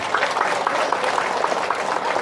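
An audience at a speech claps together in a busy, continuous patter of many hands, with individual claps faintly distinguishable in a lively, fairly close crowd.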